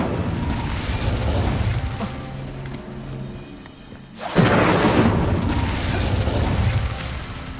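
An Incendio fire spell cast in Hogwarts Legacy bursts out as a sudden loud whooshing blast midway, following a rumbling mechanical stretch and leaving a sustained roar of flame and noise afterward.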